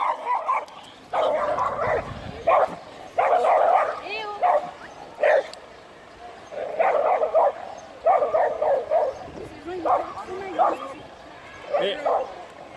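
A dog barks and yips repeatedly in short bursts, close by, with a few whimpering notes between volleys.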